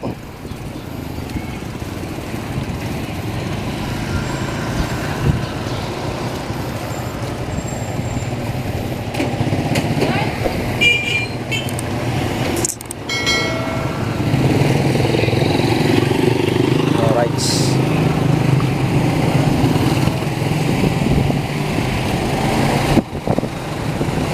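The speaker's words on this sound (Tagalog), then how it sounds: "traffic" Busy street traffic rumbles along with motorcycles passing close by, engines droning and swelling louder in the second half, a continuous roar with occasional sharper bursts and no clear talk.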